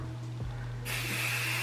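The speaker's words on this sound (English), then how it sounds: "I just spray it and let it fall." A hair styling spray is misted onto hair for beachy waves, producing a steady close hiss that begins partway through and continues to the end.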